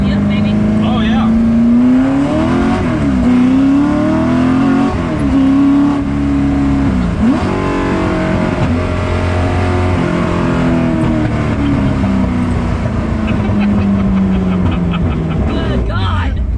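A Ford GT40 engine revs and pulls hard under acceleration during a ride-along, a loud, close, continuous roar whose pitch climbs and dips with each gear change, with people talking over it throughout.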